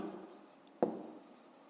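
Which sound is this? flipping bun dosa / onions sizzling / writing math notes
writing math notes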